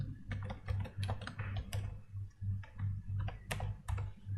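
Computer keyboard typing up close, a brisk irregular run of crisp key taps over a steady low hum, with brief pauses between bursts.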